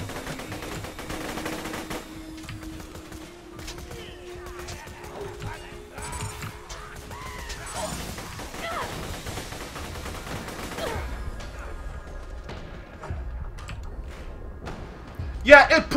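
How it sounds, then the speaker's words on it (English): Chain gun firing in the video game Borderlands 2, a dense, continuous rattle of rapid shots lasting most of the clip, with a loud burst near the end, while a voice talks over the gunfire. "this chain gun is hilarious!"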